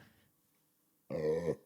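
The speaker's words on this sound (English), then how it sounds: "Who burps on their podcast? I do." A man lets out a single loud, resonant burp during a podcast recording, after a brief quiet pause with faint murmuring at the start.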